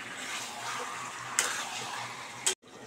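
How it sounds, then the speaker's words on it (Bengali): Chicken curry with potatoes sizzles steadily in a pan as it is stirred and fried down in its own released juices, a continuous close hiss broken by two sharp clinks of a utensil against the pan. "আবার আমি ভালো করে কষিয়ে নিচ্ছি।"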